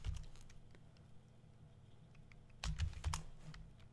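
Keystrokes on a computer keyboard entering a command in a terminal, a few scattered clicks followed by a quick cluster of taps near the end, close and fairly quiet.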